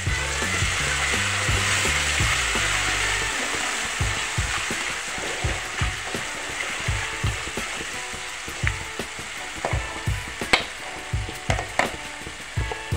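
Potato and eggplant masala sautéing in a pan with ginger garlic paste, a steady close sizzle and fry hiss under repeated soft scraping and stirring knocks that grow sharper toward the end.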